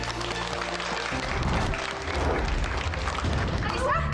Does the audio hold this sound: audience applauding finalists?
yes